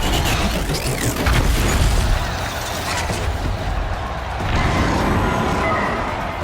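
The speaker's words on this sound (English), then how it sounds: "One more pillar and that platform will come down." A pillar and platform collapse in Horizon Zero Dawn: a loud, sustained crashing rumble with heavy booms and grinding debris that swells again toward the end.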